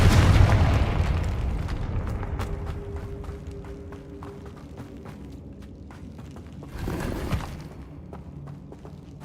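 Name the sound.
Confringo blasting spell explosion from video game Hogwarts Legacy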